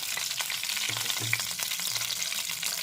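Ginger and green chilli paste hitting a hot pan for a Bengali cauliflower rezala, giving a steady broadband sizzle with a few soft stirring scrapes, close and continuous, with no talking.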